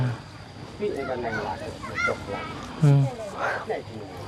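Ducks and geese on a farm honk and quack in scattered calls, with one louder nasal honk near the end, while a person talks over them.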